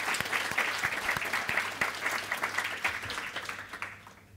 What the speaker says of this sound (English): So give them a round of applause as well.